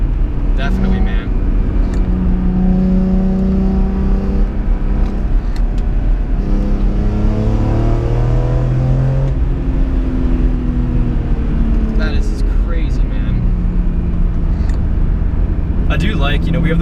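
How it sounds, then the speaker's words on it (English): A 2004 BMW M3 engine drones with induction noise from inside the cabin on a winding road, windows up, its pitch sliding up and down under steady conversation between occupants. "you do get that nice induction noise out of this engine"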